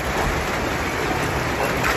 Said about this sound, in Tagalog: Ayan guys, lakas ng ulan.